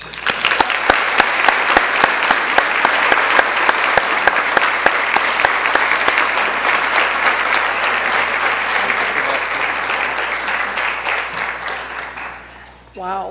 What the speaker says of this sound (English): Please, let's give a round of applause for our keynote speaker